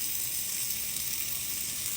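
A salmon burger fries in a pan with a steady, bright sizzle that stays even and close throughout.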